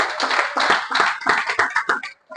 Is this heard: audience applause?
yes